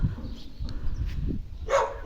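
A dog outdoors on a cold, sunny day lets out two short, sharp barks near the end, after a quieter stretch of low shuffling noise.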